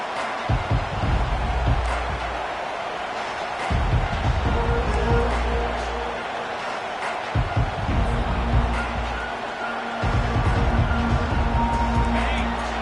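Loud stadium crowd roaring and cheering continuously in a college football video game, USC vs Georgia, swelling in bursts, with a low rumble underneath and faint commentary-like voices mixed in.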